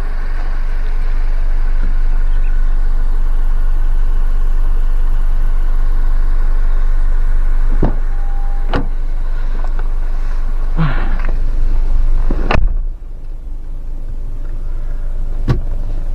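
A Honda CR-V Black Edition with a CVT and front-wheel drive driving on a mountain road, a steady low engine and road drone heard from inside the cabin, with a few clicks and knocks along the way.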